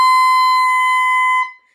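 Clarinet squeak from too much mouthpiece in the mouth, a single loud, piercing high-pitched shriek held steadily for about a second and a half before cutting off abruptly, with no voices.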